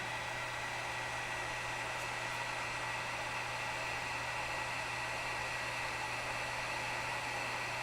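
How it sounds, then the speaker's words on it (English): A heat gun blows hot air onto a glued pumpkin decoration, giving a steady, loud, unbroken whooshing roar with a low motor hum that lasts throughout, close by and with no voices. "I could, if I took my heat gun to it, get this to come off and kind of turn it sideways."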